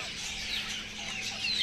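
Roosters cluck steadily in an enclosure housing pheasants and Japanese bantams, with a continuous, moderately loud chatter of fowl sounds and no speech.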